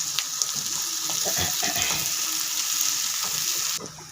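Crushed ginger and garlic frying in a pan of hot oil: a steady, close sizzle with scattered pops and soft stirring scrapes throughout, easing off slightly at the very end.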